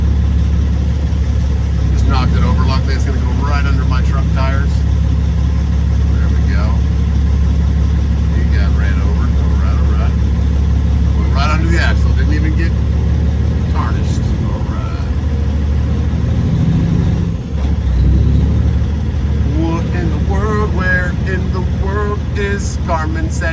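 A semi-truck's engine idles nearby in a loud, constant low rumble that holds throughout while someone talks over it.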